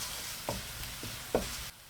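Dry chilies and chili flakes stirred in hot oil for Korean fried chicken sauce: a soft low sizzle with two or three quick spatula scrapes against the pan, brief and fairly quiet.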